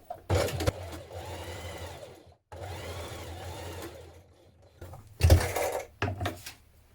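A sewing machine stitches across the bottom facing of a 1970s vintage wrap dress (Vogue 2000 pattern) in several loud, steady runs, with brief pauses and stops between the bursts of motor hum.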